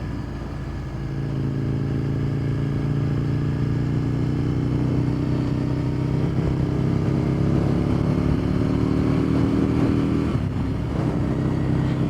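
An Aprilia motorcycle engine-braking while riding, a loud steady drone with the engine note falling gradually as the bike slows, then a brief dip and change near the end.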